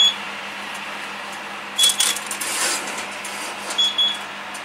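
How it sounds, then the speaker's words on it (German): A kitchen timer beeps in two short high bursts a couple of seconds apart, set over a steady quiet background hum indoors. "der Wecker piepst"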